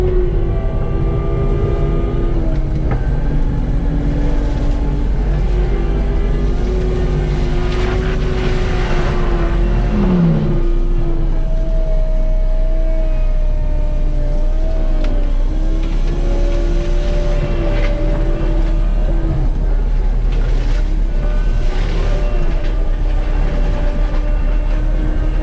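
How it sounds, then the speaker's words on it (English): A Kubota skid steer with a mulcher attachment spools up and runs, a loud, constant engine drone with a shifting whine layered over it, heard up close and without any talk throughout. "So I'm going to take the mulcher to the back of the property and give her a little test"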